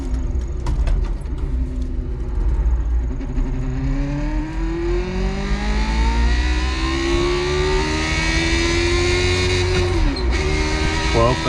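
An iRacing race car engine revs hard toward its 11,000 rpm redline, climbing through rising pitch sweeps and gear changes, loud and sustained for the whole run, with a person talking over it.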